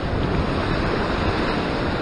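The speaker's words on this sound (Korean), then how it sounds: "이 파도를 보면 생긴 거는 다 계속 이렇게 우리한테 오는 것 같지만" Ocean surf at a Sydney sea-fishing spot in Australia, a steady, loud roar of breaking waves mixed with wind noise on the microphone, continuous throughout with no talking.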